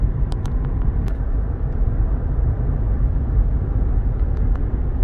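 A 2017–2018 Ford Fusion Energi Titanium hybrid with a 2.0-litre Atkinson four-cylinder accelerates on a highway, heard from inside as a loud, steady low engine and road rumble with faint ticks.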